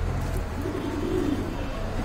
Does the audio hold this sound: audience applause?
no